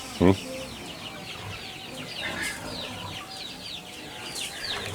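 Chickens cluck and chatter softly and continuously in a backyard coop, with one sharp, louder call near the start and other birds audible in the background.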